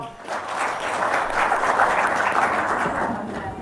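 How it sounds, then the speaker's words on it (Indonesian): A gathered audience at an Indonesian talk breaks into steady, even applause that swells slightly and holds for several seconds, close and dense, with no voices standing out. "Sip, tepuk tangan dong"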